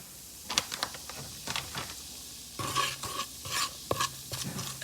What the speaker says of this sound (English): And I'm just mixing this up, and I'm just gonna have the curry brown up nicely but not burnt.